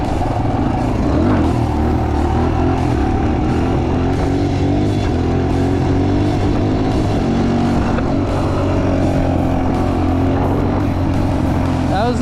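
A pit bike engine revving hard and holding high revs through a wheelie, loud, close and continuous, with a rider's voice over it.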